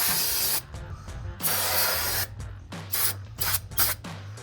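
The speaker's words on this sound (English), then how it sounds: "make sure to hit everything with the brake cleaner one more time" Brake cleaner is sprayed from an aerosol can onto a RAM truck's brake components in a series of sharp hissing bursts, several short and some longer, separated by brief pauses.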